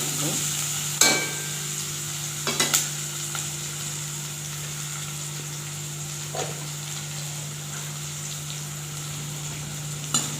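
Chopped onions sautéing in a pan for Dubai pumpkin curry, a steady close sizzle with a few sharp clinks of a utensil against the pan near the start, no talking.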